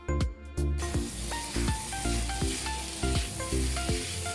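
Boiled rice with vegetables tipped into a hot pan for egg fried rice, giving a bright sizzle with repeated scraping, stirring strokes in an even rhythm, close and fairly loud.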